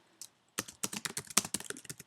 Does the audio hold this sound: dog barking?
no